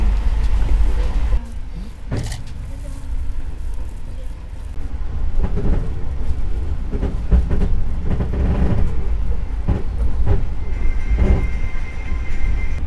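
Majapahit economy-class train on its Jakarta–Malang run, a steady loud rumble of wheels and carriage noise with periodic clacks and thumps throughout.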